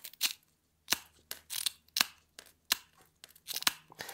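SeaBell glass nipper snipping mosaic glass into a rough circle, a run of about eight sharp, close crunching snaps at uneven intervals with quiet gaps between.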